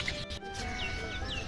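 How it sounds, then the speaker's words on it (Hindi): Several birds chirp and whistle faintly in short upward calls against a quiet morning background in Lodhi Garden, Delhi. "Pleasant morning with so many birds chirping around."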